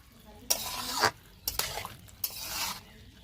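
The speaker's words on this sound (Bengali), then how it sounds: "গরম গরম রসের মধ্যে দিতে হবে দিয়ে এইভাবে নাড়তে হবে" Boondi being stirred in hot sugar syrup in a pan: three bursts of wet swishing and scraping, each lasting about half a second, separated by near-quiet pauses, with a faint metal clink and no talking.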